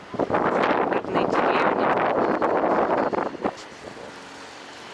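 Strong wind buffets the microphone at a fishing village in Kaliningrad, a loud continuous rumbling roar lasting about three and a half seconds before dropping away, with a brief spoken phrase.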